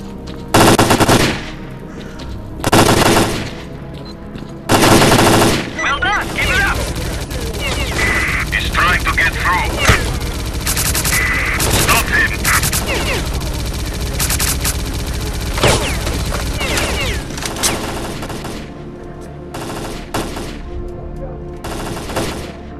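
Sustained machine gun fire in the video game S.T.A.L.K.E.R. Clear Sky during a fight at the Limansk hospital: loud repeated bursts with short pauses, over battle noise and shouted voices.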